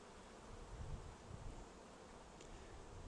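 Honeybees from a captured swarm hum faintly on a comb frame, a soft steady buzzing drone that stays low and even throughout, with no talking.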